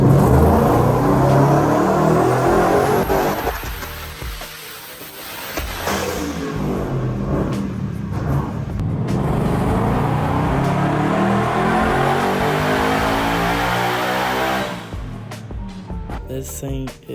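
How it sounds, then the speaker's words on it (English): A 1400 horsepower sleeper Mustang accelerates on a street with a loud, close, rising engine roar that dips briefly mid-run as it shifts, then climbs again before cutting off. "We'll try the 1400 horsepower pulls."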